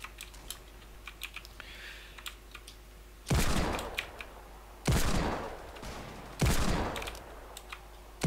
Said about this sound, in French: Je mets une balle, gros.